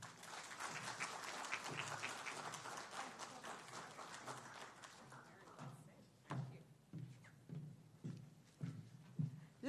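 A conference audience at a Jamaican festival event applauds fairly faintly and distantly. A sustained clatter of clapping thins into sparse, separate claps and thumps in the second half.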